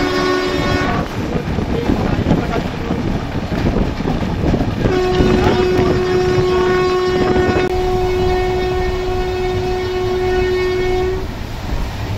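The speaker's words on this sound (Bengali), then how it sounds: "আমাদের রূপসী বাংলা এক্সপ্রেস কিন্তু তখন ট্রেনের গতি বাড়িয়ে প্রায় 110-120-র মধ্যে চলছে।" The Rupasi Bangla Express runs at around 110–120 km/h, heard as a loud continuous roar and rattle of rail travel, with a long sustained horn blast through the middle of the run.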